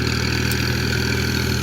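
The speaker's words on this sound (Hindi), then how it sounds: "इसे एक और ट्रैक्टर आ गया, दो ट्रैक्टर हो गए।" Model 640 tractor engine idling, a steady, loud, low-pitched mechanical drone, close and unchanging with no talking.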